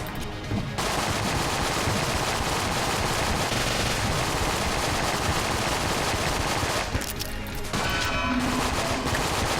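Sustained, dense gunfire and streams of bullets from the bullet-hell roguelike game Enter the Gungeon, loud and continuous with brief lulls near the start and toward the end.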